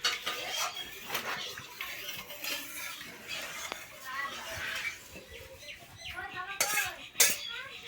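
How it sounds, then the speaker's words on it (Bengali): Metal kadai being washed in a home kitchen while chickens cluck outside, with clinks and scrapes of pots and cutlery, splashing handling noises and occasional louder clatters, moderately near. "তো এবার কড়াইটা আমি ধুয়ে নিলাম।"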